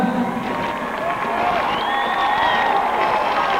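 At a boxing event in England, an audience applauds a contender. The sustained clapping and crowd noise carries on evenly throughout, with faint cheering.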